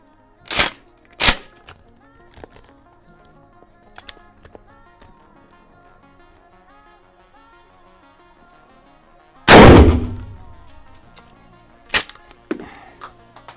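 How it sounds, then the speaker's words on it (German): Two sharp, loud shotgun blasts from a Mossberg 500A pump shotgun, the second one booming and echoing, with quiet clicks and handling noises in between. "wir machen jetzt einfach nochmal einen zweiten Schuss"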